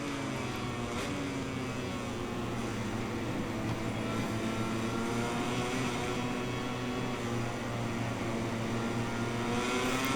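A Castrol Honda MotoGP bike's engine howls steadily at the Qatar circuit in the MotoGP 21 video game, a continuous loud buzzing drone with stable pitch and no talk over it.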